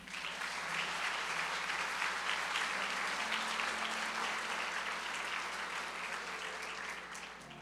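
A church congregation applauds together in sustained, even clapping that fills the room, steady and fairly loud from start to finish with no talking over it.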